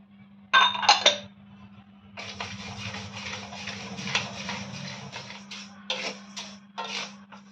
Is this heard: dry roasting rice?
yes